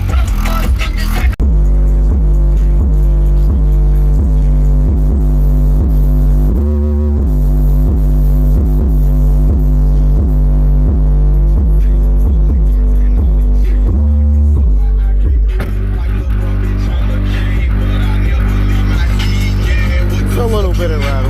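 Loud car stereo bass pounding inside a Toyota Avalon, deep booming low notes in a steady rhythmic beat with a faint rattle, close and continuous, with the music briefly cutting out and then returning.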